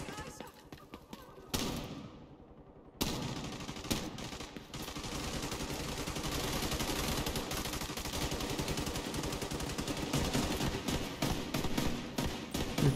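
Gunfire in The Division 2 shooter game, bursts of rapid shots crackling over background music and effects, with a sharp break of near-silence early on, while players talk over the action.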